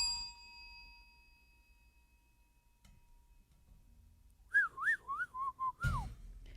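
Radio sound effects: a bell rings once and its tone fades slowly, then after a soft knock a warbling whistle plays in a quick rising-and-falling run, ending with a thump.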